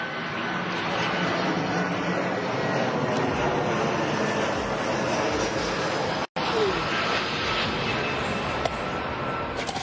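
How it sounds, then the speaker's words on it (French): An airplane passes overhead during an outdoor livestream in Brussels, a steady broad engine roar filling the background, fairly loud throughout with a brief cut midway, while someone speaks over it. "il y a un avion qui passe au-dessus de ma tête"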